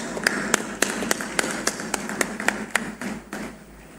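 Clapping from the audience at a Google data center groundbreaking in Visakhapatnam, a steady run of distinct, fairly close claps that thin out and fade over the last second.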